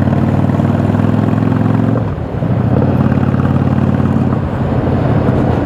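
A Yamaha V Star cruiser motorcycle engine runs close and loud with a steady low rumble, dipping briefly partway through before settling back into its even throb.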